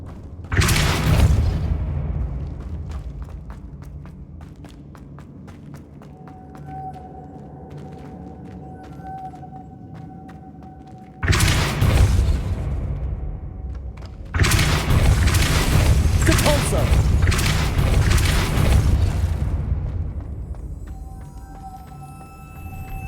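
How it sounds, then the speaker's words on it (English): A stone platform grinding upward in Hogwarts Legacy, heavy rumbling booms in long sustained bursts with brief pauses, loud and close, over a faint musical drone. "Making this spin ought to raise that platform."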